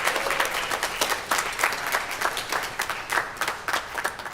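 A school-concert audience at a middle school band spring concert applauds the band boosters: sustained, dense clapping from a sizable crowd, steady from start to finish with no talking.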